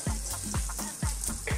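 A knob of butter melts and sizzles in a hot pan while cooking butter chicken, soft crackling frying hiss with regular scraping stir strokes, close and without talk.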